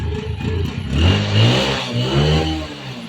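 A vehicle left unused for about ten days starts up, its engine rising and falling through a few revs, loud and close, with a little clatter.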